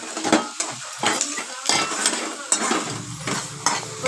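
Onions for egg rice fry in a pan while a spoon stirs them in quick, uneven scraping strokes against the metal, over a loud close sizzle.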